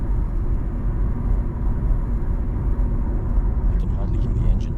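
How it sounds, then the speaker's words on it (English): Steady low rumble and road roar inside a moving Skoda Fabia at 90 in sixth gear, 2,000 rpm, with the engine barely noticeable beneath the rolling noise. "I can hardly hear the engine, only a faint rolling sound."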